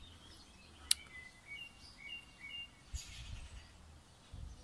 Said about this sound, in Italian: Forse non è un merlo, un altro uccello.